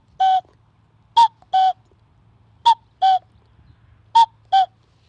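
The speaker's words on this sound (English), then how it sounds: "to make a sound like a cuckoo, you can buy these whistles, which are pretty good" A store-bought cuckoo whistle, finger over its end, plays a two-note cuckoo call three times, clear and close, with short pauses between each pair over a faint background hum.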